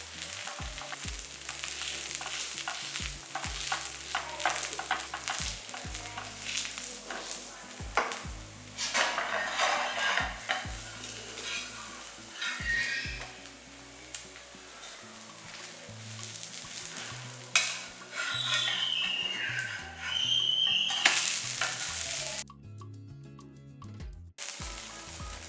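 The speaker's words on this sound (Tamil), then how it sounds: "இந்த பன்னீர் சோயா ரெண்டையுமே நல்லா மிக்ஸ் பண்ணிவிட்டு" Paneer and soya masala for a dosa filling sizzles steadily in a frying pan while a utensil repeatedly stirs and scrapes through it, with occasional clinks against the pan and no talking.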